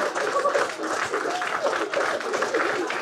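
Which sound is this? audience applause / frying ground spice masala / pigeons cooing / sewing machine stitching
audience applause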